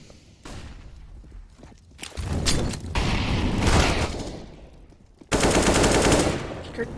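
Rapid automatic rifle fire from a Counter-Strike esports match between Virtus.pro and Avangar rattles in loud bursts, with a sharp burst near the end over a steady game background and no talking.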